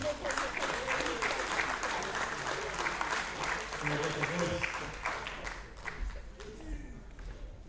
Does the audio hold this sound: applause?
yes